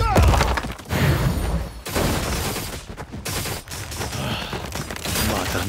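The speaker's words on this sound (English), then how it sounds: "Ready, aim, fire!" A dense volley of gunfire rattles nonstop in a video game battle, loud and close, with overlapping shots and thuds and no clear breaks.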